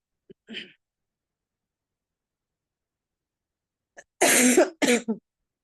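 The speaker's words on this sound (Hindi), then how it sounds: "भाभी दीदी को खांसी हो रही है, आप पढ़ लो।" A faint throat sound, then after a pause two harsh, loud coughs in quick succession, close and isolated in silence.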